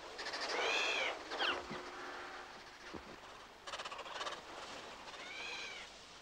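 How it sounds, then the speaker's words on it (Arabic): Wagtails tending their chicks give sharp, repeated calls in several short bursts, fairly close and clear over a soft outdoor background, with no talking. "وأثناء العناية بالفراخ تصدر هذه الطيور ضجيجا حادا للتأكيد على مواقعها وحدودها"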